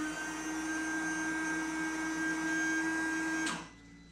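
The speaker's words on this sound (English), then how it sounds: "I can hear the motor working." A small windshield washer pump motor on a Polaris General XP 1000 whines steadily with a constant electric hum, faint and close, before switching off near the end.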